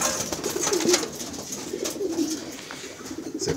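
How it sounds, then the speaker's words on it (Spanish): Pigeons in a breeding loft coo softly and repeatedly at close range, their low rolling calls rising over quiet background noise. "Muchos animalitos, palomas hermosas."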